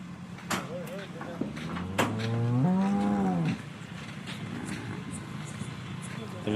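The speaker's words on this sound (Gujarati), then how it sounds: "નવી ગાય આવી છે" A newly arrived cow lets out a single long, drawn-out moo close by in the evening, between scattered knocks and faint background talk.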